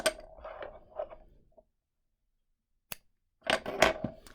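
Scissors snip through crochet yarn in a few quick, close cuts, a burst of snipping, a pause, a single sharp click, then a busier cluster of cuts at the end.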